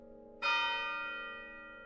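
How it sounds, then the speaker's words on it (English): A town clock bell in a video game strikes once with a bright metallic clang, then rings out and slowly decays over a low steady hum, heard alone with no voices. "the bells of the town clock rang out with thunderous force"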